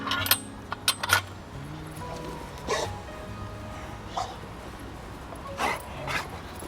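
A dog on a leash whimpers, yips and chokes in several short bursts, with jangling of metal and a person talking quietly in between.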